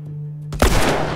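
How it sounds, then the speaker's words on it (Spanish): A single sharp gunshot in The Last of Us video game erupts after a quiet, humming lull, its loud crack trailing into a brief rumbling echo. "Ese disparo yo se lo gané a Eli"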